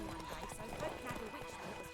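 Roach, Geralt's horse in The Witcher 3, gallops at a steady clip-clop beneath ongoing dialogue, with a brief whinny mixed into the hoofbeats.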